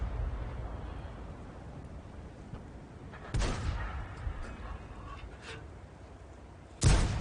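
Tank cannon fire in a tank battle video game, with a single sharp, booming shot standing out midway and another loud report near the end, over a steady low rumble of engine and battlefield ambience.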